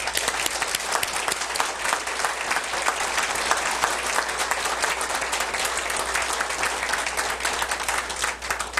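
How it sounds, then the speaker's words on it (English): Sustained applause from an audience at a hospital birthday celebration honoring Dr. Marks, a dense steady clapping that holds at an even loudness for the full stretch with no voices rising above it. "Please join me in giving him a huge round of applause."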